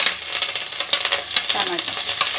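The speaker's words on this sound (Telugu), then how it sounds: "ఇప్పుడు ఆనియన్స్ వేసుకుంటున్నాను." Onions, green chilies, mint and coriander fry in hot oil in a pan, a close, continuous hiss and crackle with light stirring clicks throughout.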